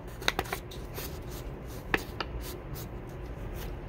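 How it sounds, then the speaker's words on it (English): Sheet of paper folded in half for a mini book craft, with a few quick crisp rustles and creasing taps near the start and another around two seconds, then a soft handling hiss, close and quiet with no talking. "You're gonna take this, fold it in half."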